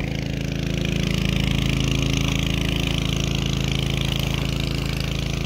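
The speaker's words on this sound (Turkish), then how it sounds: "motorun sesi çok geldiği için sesim anlaşılmıyor olabilir" A motor pumps water into a garden irrigation main line with a steady mid-pitched hum and constant mechanical drone, running close and loud without pause.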